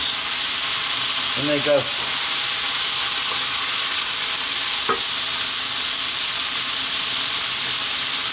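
Garlic and bamboo shoots sizzle steadily in a hot pan while chicken with bamboo shoots is cooked in Chinese style, a loud, constant frying hiss with a brief spoken remark partway through.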